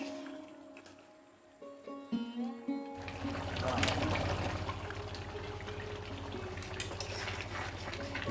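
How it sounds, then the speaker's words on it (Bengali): Chicken curry boiling in a pot on a Bengali village kitchen stove, a steady bubbling and hissing simmer after a few clinks of stirring, fairly quiet and continuous. "এবার আমরা চিকেনটাকে ফুটতে দেব।"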